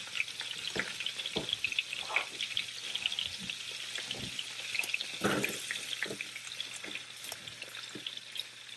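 Onions frying in a pan, a soft steady sizzle with occasional scraping stirs and clinks, fairly quiet and close.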